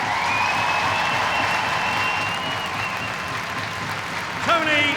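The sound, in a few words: ice hockey crowd applauding Yorkshire Regiment members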